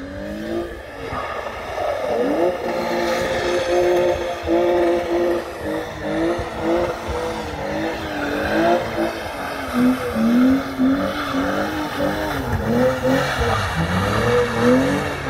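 A drift car on the oval Crail raceway in Scotland revs hard and continuously, its engine note rising and falling through gear changes with hints of tire squeal, loud and close throughout.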